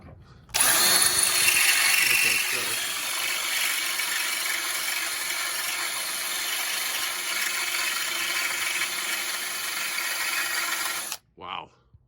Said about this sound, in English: I think I'm drilling through this.